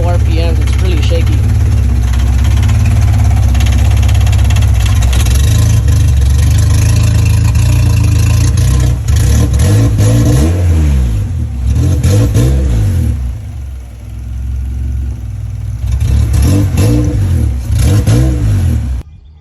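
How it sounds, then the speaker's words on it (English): A Honda Civic EG with a K-swap engine on shaky mounts idles roughly and revs in a few loud, rising bursts, close and steady for about twenty seconds, with a voice talking over it. "I still need to adjust my idle a little bit."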